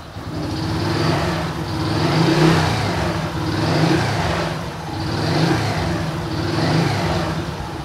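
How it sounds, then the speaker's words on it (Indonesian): A Honda motorcycle engine running during clutch servicing, revved repeatedly in slow, even swells roughly every two seconds over a steady idle, close and fairly loud. "kita mulai penyalaan mesin dan kita coba"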